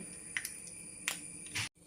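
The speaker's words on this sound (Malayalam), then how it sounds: "കടുകൊന്ന് പൊട്ടി വരട്ടെ" A few sharp pops and crackles burst intermittently over a quiet sizzle of hot oil, then the sound cuts off abruptly.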